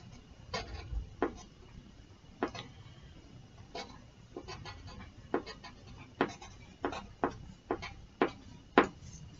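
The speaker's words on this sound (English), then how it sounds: "So I'm going to draw these shiny rocks." Pencil or pen drawing shiny rocks and crystals on paper, heard as a run of short, close scratchy strokes in an irregular rhythm over a quiet room, with no talking.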